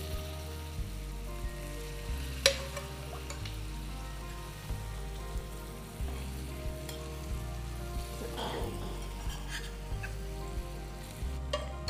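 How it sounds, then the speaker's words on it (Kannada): Boiled mutton pieces fry in a pan with chilli powder, coriander powder, garam masala, garlic and curry leaves, giving a soft continuous sizzle under a steady low hum, with occasional scraping stir sounds and no talking. "ಆ ಬೆಂದಿರ್ತಕ್ಕಂಥದ್ದನ್ನ ಡೈರೆಕ್ಟಾಗಿ ತೆಗೆದು ಈ ಕಡೆಗೆ ಹಾಕ್ತಾ ಇದೀವಿ ಫ್ರೈ ಮಾಡೋಕ್ಕೆ"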